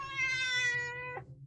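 A single cat meow, drawn out and clearly tonal, sounding close and fairly loud before it breaks off sharply, with no talk over it.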